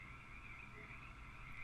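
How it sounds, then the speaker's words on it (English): Frogs croak all around at night as rain lets up, a dense steady chorus heard faint and distant with no voices over it. "you just hear beautiful sound of frogs all around you"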